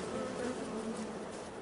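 Bees buzz in the farming game Farming Simulator 22, a soft, steady drone with a wavering tone that continues evenly throughout and plays alone without talk.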